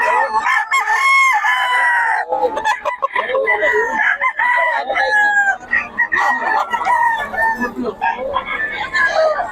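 Several roosters crow loudly and close by with long, rising calls, mixed with clucking chickens at a busy chicken market in Bocaue, as people talk over the birds.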